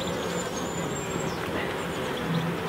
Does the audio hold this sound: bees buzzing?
yes